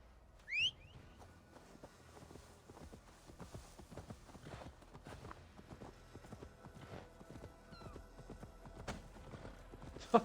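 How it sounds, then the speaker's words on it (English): Horse hooves clip-clop steadily in a video game after the player calls the horse, the rhythmic footfalls running across the whole stretch at moderate loudness, with a brief whistle-like sound near the start. "Okay, can I call my horse now?"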